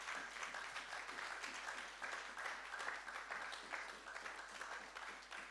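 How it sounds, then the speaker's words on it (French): Congregation at a French-language church service applauding loudly, a dense continuous wash of many hands clapping at steady strength throughout, with no pauses. "Acclame très fort le Seigneur Jésus-Christ"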